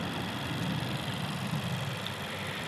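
The turbocharged four-cylinder engine of a 2022 Honda Civic Touring idles steadily, a close, even hum and low rumble with no voices over it.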